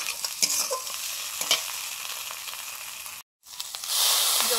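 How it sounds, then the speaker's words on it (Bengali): Spice paste of cumin, coriander and salt fries in oil with a splash of water, a close hissing sizzle with spoon scrapes, a brief cut of silence, then a louder burst of sizzling. "জল দিয়ে মশলাটা কষে নিচ্ছি।"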